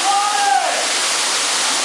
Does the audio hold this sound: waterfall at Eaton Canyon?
yes